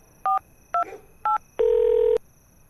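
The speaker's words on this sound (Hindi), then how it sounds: "उसने पिंकी को फोन मिलाया" A telephone is dialed: three short, crisp keypad tones spaced apart, followed by one longer, louder tone lasting about half a second. The sequence is clear and close, with no voices.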